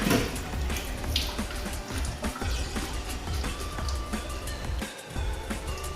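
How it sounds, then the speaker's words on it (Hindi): Water drains from freshly rinsed vegetables in a kitchen strainer, a continuous wet trickling and pattering, close and moderately quiet, with a few small splashes. "वेजिटेबल का पानी निकाल लेंगे।"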